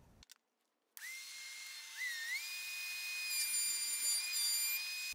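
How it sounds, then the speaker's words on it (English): A power tool spins up and holds a steady high whine while plunge-cutting into wood on a dowel-making jig, close and fairly loud, after a brief thump and a second of quiet. "I'm going to do like a plunge cut and then I'm going to exit"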